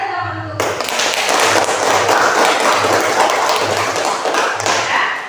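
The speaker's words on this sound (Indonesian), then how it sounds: "Kasih tepuk tangan dulu." A classroom of students bursts into dense, sustained clapping that lasts several seconds, following a brief voice at the start.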